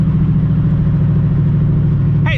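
A turbo Mustang's engine drones loud and close at steady, heavy revs for a short pull, with a dense low rumble throughout and a brief rising whine or chirp right at the end.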